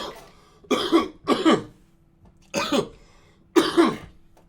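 Four harsh coughs close by, coming in two pairs separated by short pauses of quiet.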